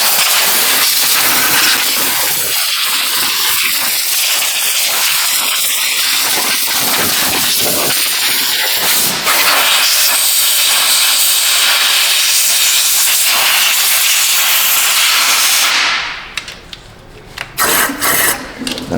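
Compressed air hisses loudly and without a break for about fifteen seconds while it blows leftover coolant out of a Buick LeSabre heater, then stops and gives way to short sputters.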